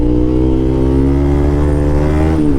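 A car engine revs loudly and steadily in fourth gear, pushed to high revs because the gear lacks power, its pitch climbing and holding as it pulls, close and alone.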